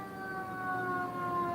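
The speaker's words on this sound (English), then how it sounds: "That was a fire truck" Fire truck siren wailing from some distance, a steady gliding tone with layered harmonics drifting slowly in pitch as the vehicle passes, over a low rumble of road noise, with no one speaking.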